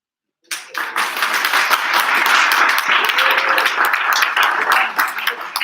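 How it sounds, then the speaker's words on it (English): Audience applause at a public speaking competition, dense steady clapping that breaks out suddenly and keeps going at full strength, fairly close and loud. "a special big round of applause is from the jury"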